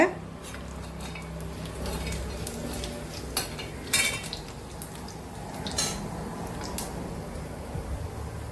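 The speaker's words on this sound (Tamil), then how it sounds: "இப்போ இந்த எண்ணெய் சூடாயிடுச்சு. அதில் நான் சோம்பு போடுறேங்க." Fennel seeds hit hot oil for a mutton dish, giving a soft low sizzle alongside scattered clinks of a metal spoon against the pan, a few sharper knocks standing out, with a voice faintly present.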